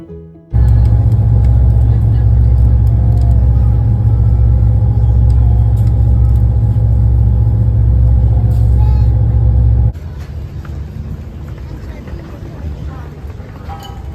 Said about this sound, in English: But the ferry ride was nice and relaxed.